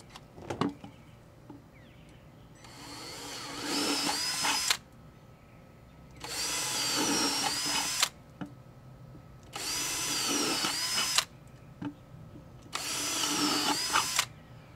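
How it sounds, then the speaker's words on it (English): A power drill whines through four separate bursts of about two seconds each while drilling holes for a bell siphon in a backyard aquaponics build, with short pauses and faint handling noise between them. "So let's go ahead and drill some holes."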